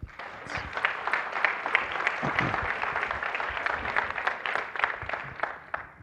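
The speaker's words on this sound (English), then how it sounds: "If we can clap it up for Dr. Noguera." Applause from a conference audience in Los Angeles welcoming a speaker, moderately loud clapping from a smaller crowd with distinct individual claps audible and the sound tapering near the end.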